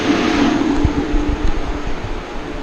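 The battery cooling fan of a Mitsubishi Outlander PHEV, running with the climate control off, gives a steady, fairly loud whirring drone with a low hum, alone with no talking.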